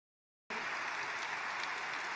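Audience applause at a Pentagon event with Trump, starting abruptly and holding steady, dense and uniform, with no voices over it.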